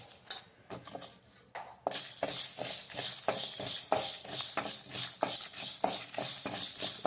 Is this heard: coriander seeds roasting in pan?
yes